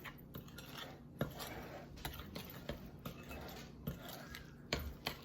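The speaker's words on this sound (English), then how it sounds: "stir in the flour mixture and the oats. So we're just gonna mix this in" Flour mixture and oats being stirred into cookie dough with a utensil, giving soft scraping and intermittent clinks against the bowl in a quiet, irregular rhythm.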